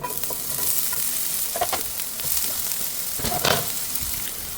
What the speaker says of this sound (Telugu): నేనైతే ఈ ప్యాన్లో ఆయిల్ వేసుకొని వేడైన తర్వాత ఆనియన్స్ వేసుకుంటున్నాను